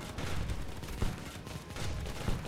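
Gunfire from the steampunk tower-defense game Steampunk Tower 2 keeps up a dense, steady rattle of shots, with a couple of heavier bursts standing out, loud and continuous throughout without any voices.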